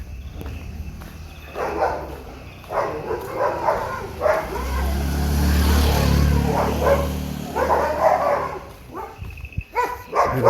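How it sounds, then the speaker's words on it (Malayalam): Dogs bark along a road near Madikeri town, a series of barks at moderate distance against a low rumbling background, with insect chirring and footsteps faintly present. "ഭയങ്കരപ്പെട്ട നായികളുണ്ട്."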